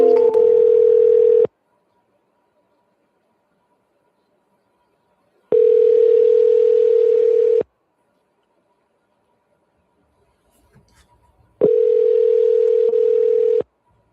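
A telephone ringback tone sounds in three long, steady, loud beeps separated by silent gaps while an outgoing call is redialed.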